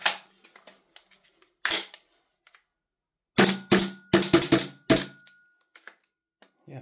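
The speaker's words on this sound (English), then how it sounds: "Get some gas in the mag. We'll give it a quick test fire." Gas-powered airsoft Lambda Defence GHM9 pistol being test fired: a single sharp crack, then after a pause a quick string of five or six close, loud snapping shots, with faint clicks in between.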